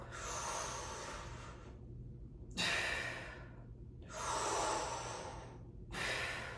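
Deep breaths drawn in during a stretching breathwork exercise, with about three long airy inhales close by, separated by short silent pauses.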